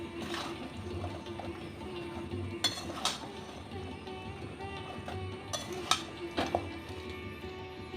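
Cubed vegetables, including pointed gourd, pumpkin, raw banana, sweet potato, eggplant and ridge gourd, being sautéed in a pan, with a quiet continuous sizzle and occasional clinks of a spatula against the metal.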